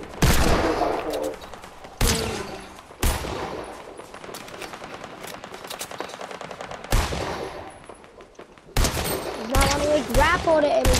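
Dual pistol gunshots in the video game Fortnite ring out in sharp, loud bursts, several clustered shots firing at irregular intervals with a rattling game soundscape between them.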